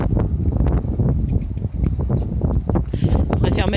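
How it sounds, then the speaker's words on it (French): Gusty wind buffets the microphone outdoors, a rough roaring rush with a voice speaking intermittently underneath. "Ce vent, ouais, il est pas chaud."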